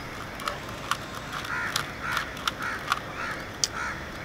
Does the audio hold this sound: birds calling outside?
yes